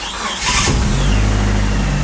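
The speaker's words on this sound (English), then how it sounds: "And the car starts right up." A Mitsubishi 4G64 car engine cranks briefly and catches after an alternator replacement, then settles into a steady, close, low idle hum with no voices.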